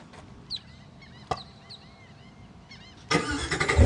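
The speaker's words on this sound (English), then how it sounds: "Even though this is an electric car, it actually makes engine noises." A Tesla electric car plays a fake engine sound through a speaker under the car. Faint clicks and chirps come first, then a loud engine-like roar starts abruptly near the end and keeps building.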